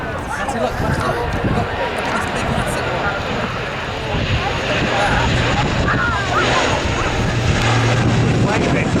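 A loud, steady helicopter rotor-and-engine roar fills the whole stretch at an airshow, with people talking over it.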